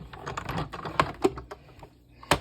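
A small die-cutting and embossing machine clatters and clicks in irregular bursts, with sharp ticks and rattling mechanical noise close by, no voices.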